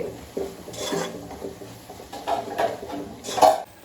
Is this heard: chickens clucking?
no